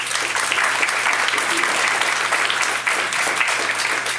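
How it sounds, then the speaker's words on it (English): Audience applause at a graduation celebration, a large crowd clapping steadily and loudly throughout, dense and sustained without a break. "So let's give Create Your Dreams another round of applause."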